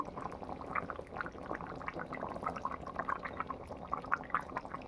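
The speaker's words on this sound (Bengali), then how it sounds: "আমার আলুর দমটা হয়ে গেছে কি সুন্দর ফুটছে দেখো" Aloo dum, a potato curry in a loose gravy, bubbles steadily as it boils, with soft continuous popping and gurgling close by and no voices.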